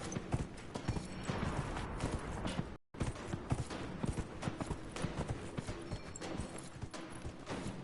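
Horse hooves clip-clopping in Dragon Age: Inquisition, a brisk, continuous gallop of close, loud hoofbeats with faint creaks, briefly cutting out to silence before resuming.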